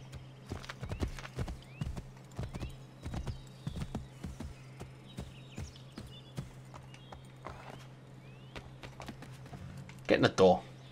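In Assassin's Creed III, a horse's hooves clip-clop in a steady walking rhythm near a stable, close and fairly soft beneath a low hum, with a brief louder burst at the end.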